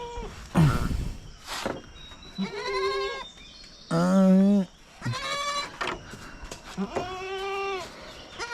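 Goats and newborn goat kids on a farm bleat loudly and repeatedly, close by, in a string of wavering cries with short pauses between them and a voice talking softly in between.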